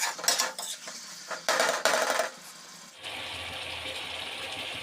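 Chilli chicken gravy is stirred in a pan with a metal spoon, giving several quick scraping and clinking strokes, followed by a steady soft sizzle of the cooking gravy, all fairly quiet and close.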